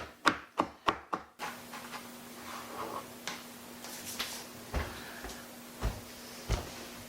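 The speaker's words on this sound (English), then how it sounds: "this is an extremely rough chop because it's all going to get frozen" Rough, fast chopping of garden vegetables with a knife on a board: a quick run of four sharp, close knocks, then scattered softer taps and scrapes over a steady low hum, with no talking.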